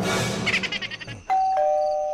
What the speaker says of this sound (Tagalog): May doorbell pala.